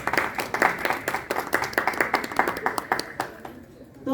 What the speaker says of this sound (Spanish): para quienes les pido un fuerte aplauso.